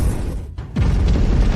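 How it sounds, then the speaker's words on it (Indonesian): A magic stone bursts in a fantasy explosion sound effect, a sudden near boom after a brief gap, followed by a rumbling roar that lingers for about a second. "Karena tidak bisa menampung bakatnya, langsung meledak di tempat."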